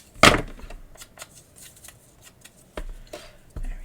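Scissors snip across paper during a scrapbooking project, a loud first cut followed by several fainter crisp snips and a couple of sharper clips near the end.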